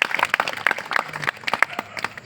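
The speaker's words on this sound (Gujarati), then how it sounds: "તાળીથી બતાવો" An audience at a religious satsang gathering claps in a dense, continuous burst of overlapping hand claps, loud and close, with no talk over it.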